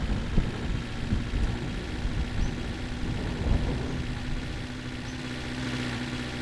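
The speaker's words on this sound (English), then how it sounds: "I'm pretty sure that thunder noise isn't coming from outside. I'm pretty sure it's the game" Thunder in The Long Drive driving game, a low rolling rumble that swells and fades over a steady vehicle drone, continuous and fairly distant with no voices.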